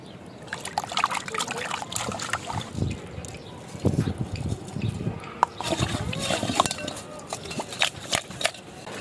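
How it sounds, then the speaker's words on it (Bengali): Taki fish washed by hand with salt and water in a village kitchen: steady splashing, trickling and rubbing that carries on throughout, close and fairly loud, with voices heard faintly in the background. "লবণ দিয়ে এখন মাছগুলোকে ভালো করে ধুয়ে নিচ্ছি।"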